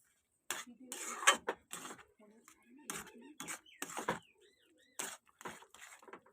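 Semolina is stirred into Gobindobhog rice halwa in a pot, producing a run of irregular metal clinks and scrapes from a spoon against the pot. The sounds come in short bursts separated by brief quiet gaps and are moderately close.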